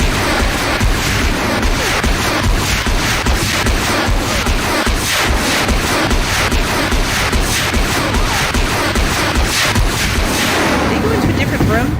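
Dense, rapid gunfire from the Horizon Zero Dawn video game rattles continuously and loudly, with shots overlapping into a constant barrage that barely lets up across the whole stretch.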